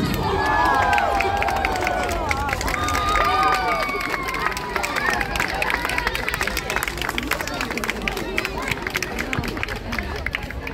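Outdoor crowd at a staged gladiator combat show during Cluj Days 2024 cheers, whistles and claps continuously, a loud, dense roar of voices with high shouts throughout.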